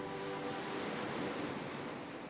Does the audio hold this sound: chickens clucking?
no